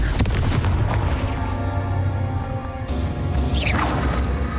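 A Confringo fire spell blast in Hogwarts Legacy, a loud booming burst with a rumbling tail, followed by a whooshing sweep near the end, no voices.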